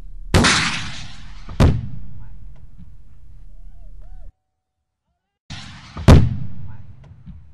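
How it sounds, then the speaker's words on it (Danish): Artillery cannon at a shooting range firing two heavy booms, each a sharp blast followed by a long rumbling decay, separated by several seconds with a brief silent gap between. "Kanonen lades, der tages sigte."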